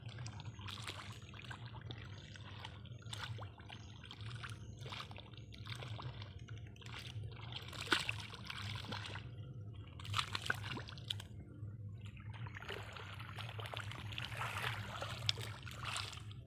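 Water drains out of a flooded paddy seedbed with a soft, continuous trickle and gurgle, faint and steady, with occasional small splashes over an outdoor hum.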